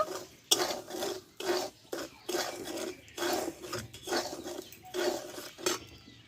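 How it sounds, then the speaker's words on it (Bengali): Steady rhythmic scraping as coriander powder is stirred into a beet salt mixture, a spoon rasping repeatedly against the bowl in close, loud strokes with no talk. "আর হাফ চামচ এখানে ধনে গুঁড়ো এটা দিয়ে আমি ভালোভাবে নাড়াচাড়া করে নেব"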